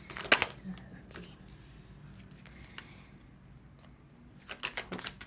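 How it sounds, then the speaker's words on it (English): Tarot cards are shuffled in short, crisp riffling bursts at the start and again near the end, close and fairly quiet, with soft handling noises between them and no talking. "that was bad shuffling"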